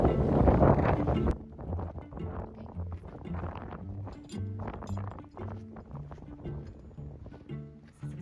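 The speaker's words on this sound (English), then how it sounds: "There's a cold front coming in, so I think that's what all the wind's about." Wind gusting from an incoming cold front buffets the microphone outdoors, a loud rumbling burst at first that eases into steadier blustery noise with faint knocks and rattles, no voices.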